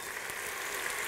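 Chicken frying on a saj under a basin lid, giving a steady, continuous sizzle with a soft crackling hiss throughout, close and moderately quiet.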